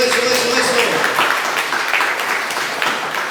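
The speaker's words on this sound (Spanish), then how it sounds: "Un aplauso para Sebas." A church congregation gives a short burst of applause for a young reader named Sebas, with a brief voice at the start and scattered claps tapering off toward the end.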